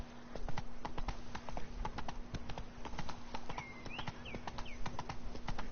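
Roach, a horse in The Witcher 3, gallops with rapid, rhythmic clip-clop hoofbeats, close and steady, the repeating hits carrying on throughout with faint chirps or calls in the background.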